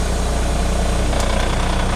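A tractor-trailer truck is put in gear and pulls against its set trailer brake during a pre-trip inspection, giving a loud, close, steady diesel engine rumble with a throbbing low vibration and no talk.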